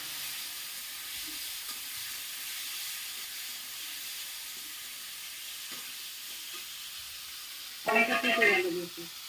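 Tomatoes sizzling in hot oil seasoned with nigella seeds for a Bengali sour lathi fish curry, with a steady hiss throughout and a louder stirring burst near the end that overlaps a short voice.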